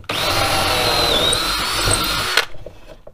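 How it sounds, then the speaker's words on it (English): A power drill whines steadily and loudly for over two seconds while drilling pivot holes for a homemade automatic fishing hook setter, its pitch dipping briefly under load, then cuts off abruptly, leaving quiet rustling. "Let's drill them out."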